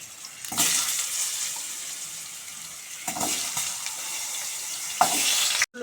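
Potato pieces drop into hot oil in a pan, already seasoned with nigella seeds after frying fish for a Bengali rohu curry. A steady, close sizzle swells in several loud hissing bursts.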